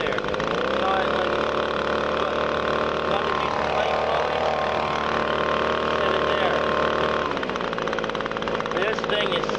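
An Echo PB-250 backpack blower runs its small engine with a steady, buzzing drone that is loud and close, with a slight change in pitch as the speed shifts.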